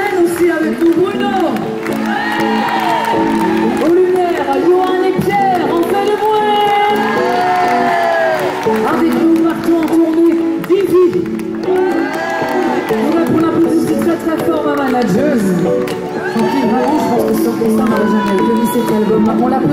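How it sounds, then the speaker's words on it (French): A large crowd at a concert in Compiègne cheers, whoops and shouts continuously for the performers, a loud, sustained roar with voices rising and falling throughout. "je voudrais qu'on applaudisse très très fort pour votre son à vous, Julien"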